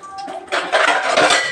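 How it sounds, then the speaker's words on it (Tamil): Pots and dishes being washed at home, with steady clanking of metal vessels and cutlery close by over running-water hiss, under a second and a half. "கொஞ்சம் பாத்திரம் கழுவிட்டு இருக்காங்க."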